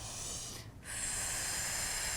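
A close, steady breath drawn in through the nose, a long airy hiss broken by a brief pause before it resumes.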